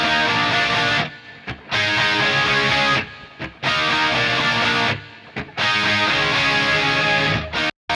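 Heavily distorted electric guitar riffs recreating a classic rock song's production, played loud and dense in repeated phrases with short gaps between them.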